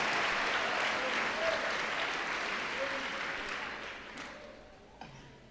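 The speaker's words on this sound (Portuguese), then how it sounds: "seja forte, poderoso esse aplauso, porque Ele é digno" Congregation applause during a special anniversary church service, a broad wash of clapping that starts full and gradually fades over several seconds, ending with a few scattered claps.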